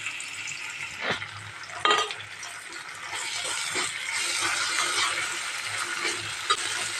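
Ginger-garlic paste fries with finely chopped onion in a hot pan for a Marathi soybean vegetable dish, giving a steady close sizzle with crackling spatters and a few sharp taps of stirring.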